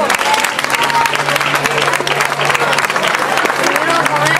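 A crowd applauds steadily throughout at a cycling race trophy ceremony, dense clapping filling the room at a constant level, with an announcer's voice briefly audible underneath.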